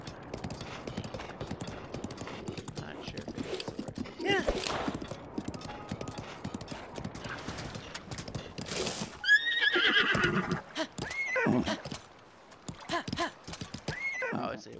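Horse in The Legend of Zelda: Breath of the Wild, with steady clip-clop hoofbeats and several sharp neighs and whinnies, while someone talks throughout.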